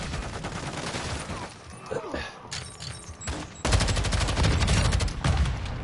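Full-auto battle rifle fire in Call of Duty MWII, played on the Shipment map: dense, rapid bursts of loud shots, with a short lull midway before a sustained, heavier stream of fire resumes.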